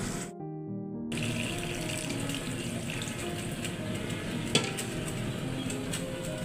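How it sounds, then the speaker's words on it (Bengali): Water pours into an egg and potato curry in a pan after frying, a steady close rushing splash with faint sizzling that continues alone at a fairly even level. "তরকারিটা কষানো হয়ে গেছে জল দিয়ে দিচ্ছি"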